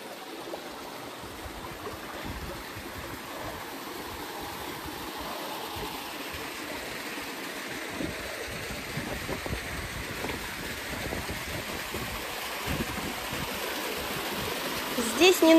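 Waterfall cascade at Zelenogorye, Crimea, a steady broadband rush of flowing water heard at a moderate distance, with some wind buffeting on the microphone.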